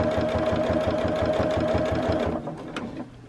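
A sewing machine runs fast and steady, stitching a folded circle-leaf fabric table topper, its needle thumping in an even rapid rhythm, close up, then slowing and stopping near the end.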